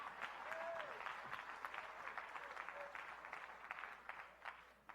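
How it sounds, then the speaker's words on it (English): An audience at a leadership talk claps their hands, a fairly faint, scattered patter of claps that swells early then thins, with a few clearer claps near the end. "Oh, come on, clap your hand."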